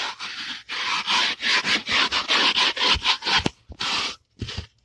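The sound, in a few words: scrubbing Chevrolet Impala carpet sprayed with Turtle Wax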